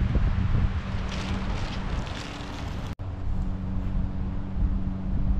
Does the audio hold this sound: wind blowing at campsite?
yes